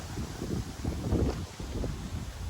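Strong gusty wind buffets a microphone during an outdoor half-marathon run, the low roaring bursts rising and falling, loud and close.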